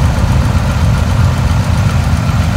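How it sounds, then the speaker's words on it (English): A Cessna 170B engine idles in Microsoft Flight Simulator, a loud, steady, low rumbling drone that stays even throughout, with no talking. "Man, that thing is a rumbly, brumbly engine."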